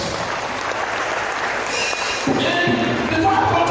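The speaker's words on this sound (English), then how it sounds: "Can you clap your hands for Jesus?" Children in a church audience clap their hands together at a harvest thanksgiving service, a dense steady patter of applause that fills the room and grows slightly louder toward the end.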